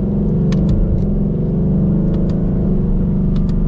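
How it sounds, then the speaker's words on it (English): A Ford Mustang GT California Special's V8 with a 10-speed automatic, a loud, steady, close engine drone with a deep rumble building under acceleration, punctuated by a few faint clicks. "that V8 sound"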